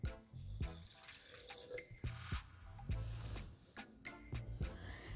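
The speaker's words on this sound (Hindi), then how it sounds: "ब्लेंड करने के लिए इसमें मैं थोड़ा सा लहसुन अदरक का पानी डाल रही हूँ।" Garlic-ginger water is poured into a blender holding green chillies, giving close, uneven splashes and gurgles with short clinks and gaps between pours.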